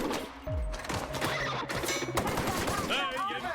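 Gunfire in The Outer Worlds hits a wall in quick bursts, sharp rapid shots and impacts layered over game noise, with a voice speaking in between.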